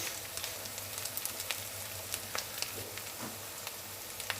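Ginger garlic paste being stirred into vegetables frying in a pan for street-style egg noodles, giving a steady, close sizzle with scattered crackles and pops throughout.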